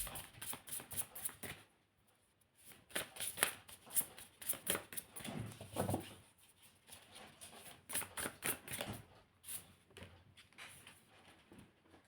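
Tarot cards are shuffled and handled in a quiet room, with soft papery riffles and flicks coming in irregular bursts over about twelve seconds, faint and close.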